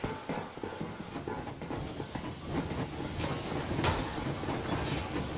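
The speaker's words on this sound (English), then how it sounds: "Yermak, full steam ahead." Steam train rolling along in the Metro Exodus video game, a steady broadband hiss and rumble with faint rhythmic clatter, continuous and fairly close throughout.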